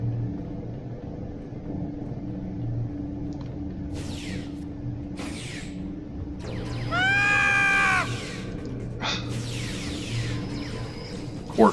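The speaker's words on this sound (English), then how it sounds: "Quark's scream is awesome." Quark, the Ferengi character in Star Trek Online, lets out a loud wavering scream in a short burst, set over a steady low engine-like hum with a few scattered electronic effects before and after.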